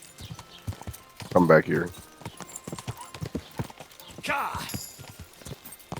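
Horse hooves clip-clop in the Kingdom Come Deliverance 2 video game, a steady rhythmic trotting beneath frequent close talking, with a brief louder burst of activity partway through.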